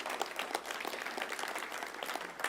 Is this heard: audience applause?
yes